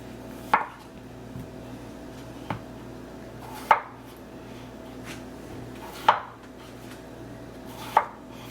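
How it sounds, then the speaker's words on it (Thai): A knife chops through potatoes on a cutting board, five distinct cuts spaced slowly and unevenly in a quiet room. "หั่นแค่พอให้มัน สุกง่ายหน่อย แล้วก็ จะได้เอามาบดได้ง่ายๆนะคะ"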